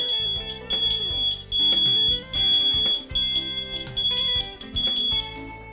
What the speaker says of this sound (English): When you take your hand off the pad, the monitor will go into alarm and confirm the system is working.